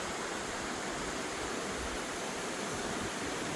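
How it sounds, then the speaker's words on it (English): A waterfall rushes steadily in an outdoor setting, with a light breeze adding to a constant broadband roar that stays even and unbroken throughout. "Got a nice breeze coming down off that waterfall."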